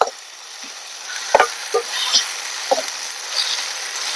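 A coarsely pounded egg pickle mixture fries in oil with curry leaves, a continuous sizzling hiss broken by a few quick stirring scrapes and spoon taps.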